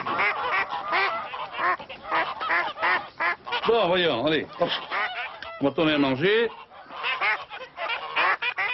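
Farm ducks and geese honk and quack in a busy, near-continuous chorus while someone speaks French over them.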